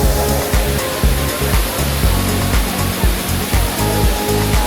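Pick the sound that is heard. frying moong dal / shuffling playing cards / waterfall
waterfall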